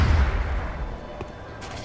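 Gunshots in the strategy game XCOM: Enemy Within, a heavy booming report up front that rumbles and fades into a fainter rattle of follow-up shots.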